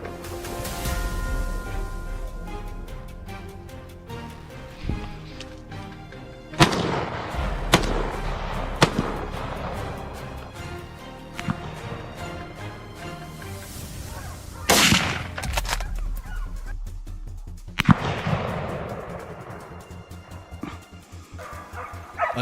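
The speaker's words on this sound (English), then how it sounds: "The bullet struck true, piercing its body, and the boar collapsed instantly." Gunshots ring out at wild boars in a cornfield amid loud, continuous dog barking and yelping, with several sharp reports spaced through the commotion.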